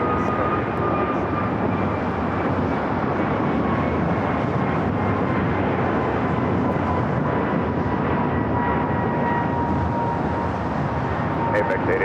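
A jet airliner on runway 25 Right at LAX roars through its takeoff run as a loud, continuous broadband rumble with a faint steady whine, and speech can be heard under it.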